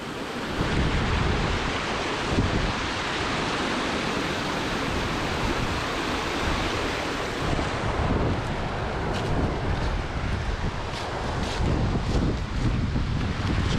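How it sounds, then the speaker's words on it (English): Waterfall on a burn in the Scottish countryside, a steady loud broadband roar of rushing water heard close up, with some wind buffeting on the microphone. "check this waterfall"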